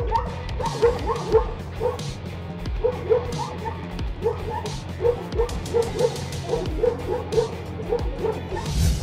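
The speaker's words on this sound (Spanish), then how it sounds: "Este valiente perro alabai se enfrenta firmemente a este oso joven." An Alabai dog confronting a young bear barks and yips repeatedly in quick bursts, mixed with whimpers, close and loud over outdoor rustling.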